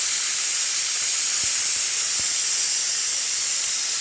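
A pressure cooker vents steam in a loud, continuous hiss that holds steady for the whole stretch, with a couple of faint clicks underneath and no talking.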